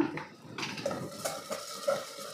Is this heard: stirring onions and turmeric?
yes